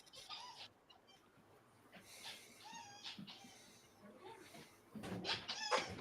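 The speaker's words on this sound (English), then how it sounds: "I hear a squeaky toy." Squeaky dog toy being played with just outside a door by someone with dogs, giving a few short, high, rubbery squeaks scattered over several seconds at moderate to faint distance, with quiet room noise in between.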